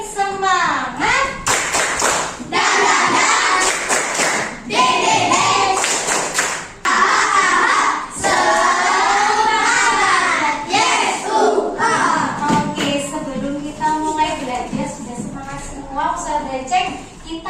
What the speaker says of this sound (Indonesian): Tepuk paling semangat.